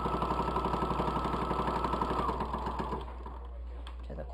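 A sewing machine stitches a fabric bowl cosy, its rapid even needle chatter running close and steady for about three seconds before slowing and stopping into quiet.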